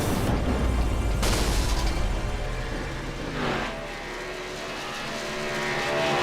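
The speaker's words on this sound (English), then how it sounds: "You hear it? That's cars on track." NASCAR 2000s Cup Series stock cars roar around Talladega in iRacing, a loud, dense engine drone with a car sweeping past partway through, no talking.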